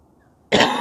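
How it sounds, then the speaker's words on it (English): A single sharp cough bursts out abruptly after a moment of near silence, close and fairly loud. "have a cough"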